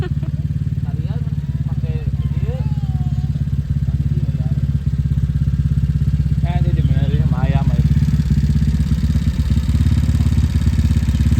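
A motorcycle engine runs close and loud with a steady, thrumming drone during a holiday homecoming trip. People talk briefly over it.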